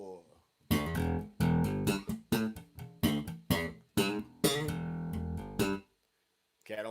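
Electric bass in a funk style slides up from the minor third to the major third of E, then from the sixth to the flat seventh, in short punchy repeated phrases played alone after a brief count-in.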